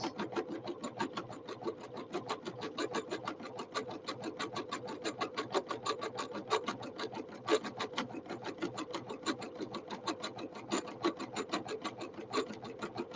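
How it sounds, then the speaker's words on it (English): Domestic sewing machine stitching fabric while the needle is steered around a corner, a steady rapid mechanical chatter of evenly spaced needle strokes running continuously at close range with no talk. "now I'm directing the needle to go around the corner"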